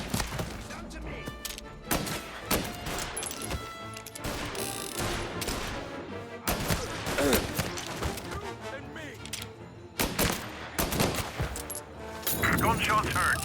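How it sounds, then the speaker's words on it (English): Bursts of gunfire in Mafia: Definitive Edition crack repeatedly, with rapid volleys and scattered single shots interrupting a noisy background. "Gunshots heard."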